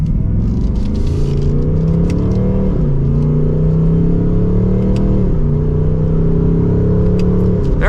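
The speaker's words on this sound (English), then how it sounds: "So let's give it another acceleration here." A 2024 Ford Mustang GT accelerates hard, its engine droning loud and steady from inside the car, pitch climbing then dropping at two quick gear shifts before rising again, with no one talking.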